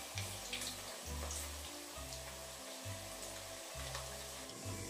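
Meat sizzles in a hot pan, a constant broadband hiss that stays quiet and even, with a low pulsing hum underneath.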